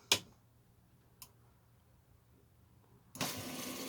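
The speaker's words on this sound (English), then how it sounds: "In here we have electric bilge pump." An electric bilge pump in a boat with a steel tank clicks once and again, then starts up with a sudden steady whirring run that continues to the end, close by.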